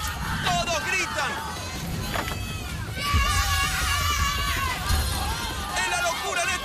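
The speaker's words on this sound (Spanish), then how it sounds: "Uno para Elías, todos gritan." At an Exatlón competition, a crowd yells and shouts excitedly and without pause, with overlapping voices and a commentator talking over the steady, loud din.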